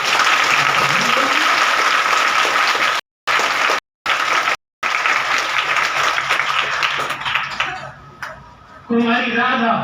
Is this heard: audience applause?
yes